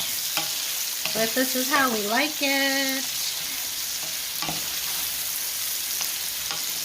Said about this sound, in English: I'm burning my sausage.